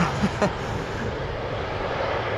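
A KLM Embraer landing at Schiphol Airport with thrust reversers engaged, a steady broad jet roar heard from a distance, with a couple of brief louder bumps near the start.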